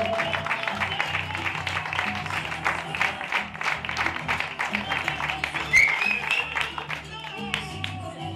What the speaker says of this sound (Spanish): Ese fuerte aplauso para ellos dos.